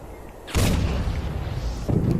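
Howitzer artillery fire in the Toy Soldiers video game, with two booming blasts, one strong hit near the start and a second shot near the end, over a steady rumbling battle backdrop.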